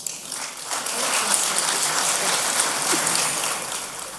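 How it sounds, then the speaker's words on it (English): Audience applause at a campaign event against gender-based violence, a dense rain-like patter of many hands clapping that swells after a brief start and holds steady. "A warmer round of applause"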